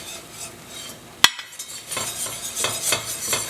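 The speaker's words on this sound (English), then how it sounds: "We're going to whisk in our flour and our mustard powder." A whisk stirs flour and mustard powder into a pan for mac and cheese, opening with one sharp metallic clink, then a soft, continuous scraping and swishing close by.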